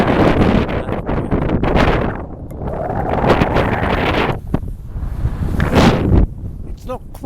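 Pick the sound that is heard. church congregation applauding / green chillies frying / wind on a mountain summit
wind on a mountain summit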